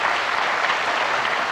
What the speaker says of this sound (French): Ginette, je voudrais qu'on l'applaudisse.